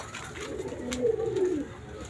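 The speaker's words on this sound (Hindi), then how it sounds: "ऐसा ऐसा सब बाहर आ रहे हैं और खुशी होती है जब मैं अपने परिंदों को खुश देखता हूं" Pigeons coo softly as they come out of their coop at a village pigeon colony, a single low rolling call under faint background noise.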